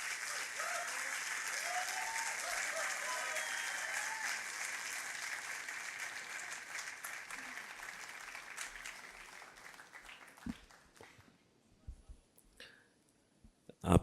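An audience at an Urdu humor reading session at the 16th Aalmi Urdu Conference, Arts Council, gives sustained applause that fades over several seconds into scattered claps and faint room noise.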